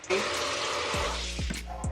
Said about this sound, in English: could you turn the water off, please?